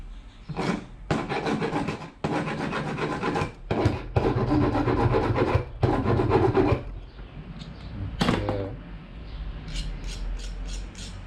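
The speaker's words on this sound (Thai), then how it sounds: "ผมก็จะตะไบนะครับ" A hand file rasps zinc plating off a brass PL259 coaxial connector in repeated close, loud scraping strokes separated by short pauses, ending in a few lighter scrapes.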